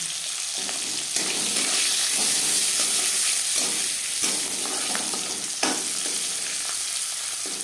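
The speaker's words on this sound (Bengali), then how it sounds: "দশ 15 সেকেন্ড জিরে ভেজে নেওয়ার পর দিয়ে দেব থেঁতো করে রাখা রসুন, চেরা কাঁচা লঙ্কা" Crushed garlic and slit green chilies hit hot oil with cumin seeds for a Bengali-style sim boti dish, giving a loud, continuous close sizzle with occasional sharper crackles and bursts as the pan is stirred.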